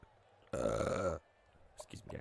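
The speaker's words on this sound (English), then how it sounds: "Burping." A single loud, drawn-out burp from a man lasts about half a second and stands clearly above a quiet background. Brief talk follows afterward.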